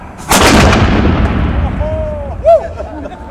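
A cannon fires in Cape Town with a single loud, near boom and a long rolling echo that decays over a few seconds, followed by faint whistling tones.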